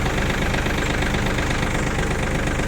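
A Yanmar F195 mini tractor's small diesel engine runs steadily and loudly at close range, a continuous even rumble with a faint rhythmic knock and no other sounds.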